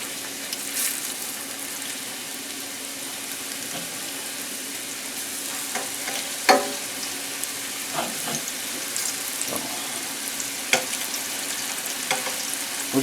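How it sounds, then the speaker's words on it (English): Steak searing in olive oil in a hot skillet for pepper steak, a steady close sizzle with occasional sharp pops and spatters, no talking. "I'm probably going to have to do this meat in batches, so we just want to sear it off pretty good."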